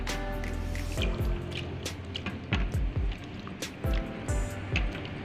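Grated tapioca washed and squeezed by hand in cold water: close, wet sloshing and splashing with repeated squelches and drips as handfuls are wrung out, under steady background hum.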